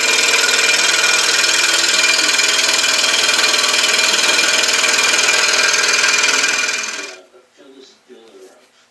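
A handheld Dremel rotary motor tool grooves a piece of wood, running as a loud, steady high-pitched whine for about seven seconds before cutting off and leaving brief faint rustles.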